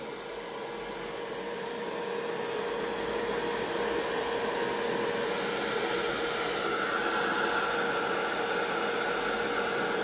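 A hair dryer blows steadily on a freshly painted, still-shiny mixed media art journal page, a loud continuous airy roar that holds for the whole stretch with no talking.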